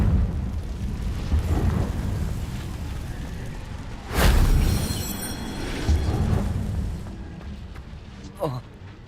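A Confringo explosive spell blasts in Hogwarts Legacy, a sharp loud burst with a bright crackling tail that rises suddenly out of rumbling in-game noise and voices, followed by a softer thud and a brief pop near the end.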